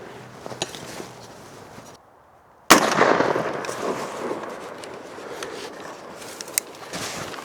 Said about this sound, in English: I'm shooting military ball ammo.